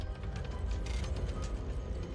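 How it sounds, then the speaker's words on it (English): A heavy metal door grinds open in Girls Frontline 2, a steady mechanical rumble with ratcheting, creaking clicks running through the whole stretch, close and fairly loud on its own. "Suddenly, the sound of a heavy metal door opening shatters the loud silence"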